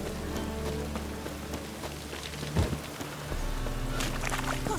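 Rain falling in The Witcher 3, a steady hiss of drops on surfaces that continues throughout, moderately loud, with a low rumble and a brief thump partway through.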